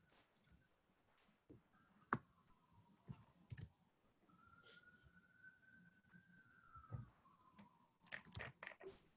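Very faint, irregular key clicks from typing on a keyboard at a lecture event, scattered with a few sharper taps over a quiet room and a soft tonal hum.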